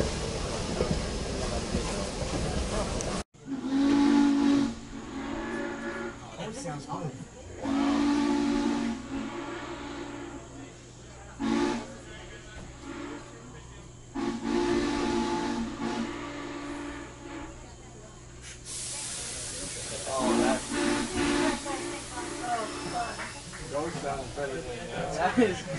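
Strasburg steam locomotive sounding its whistle in several long blasts alongside heavy hissing steam, with engine rumble in between and a break of steam noise near the end, heard outdoors trackside.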